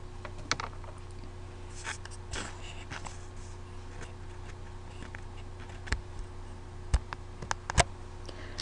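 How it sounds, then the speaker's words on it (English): Shift and Print Screen keys pressed on a computer keyboard, heard as sparse, sharp clicks and taps, a couple of louder key strikes near the end, over a quiet room hum with no talking. "This is the Shift Print Screen button."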